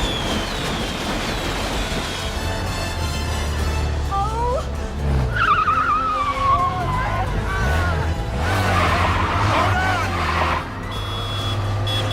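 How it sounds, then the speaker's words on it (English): Engines roar under dense action music as motorcycle tires squeal and skid repeatedly, with rising whines and bursts of movement throughout a loud, busy chase scene from the 1997 film Tomorrow Never Dies. "the bike chase when Bond and Wei Lin are being chased on the motorcycle"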